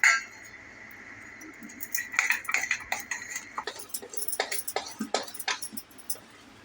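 Spoon clinking against a bowl while crushed ginger and chili are mixed for dahi vada, a run of light, irregular taps and scrapes that starts after a brief quiet and stays close and steady.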